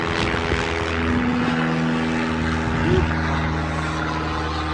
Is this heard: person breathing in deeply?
no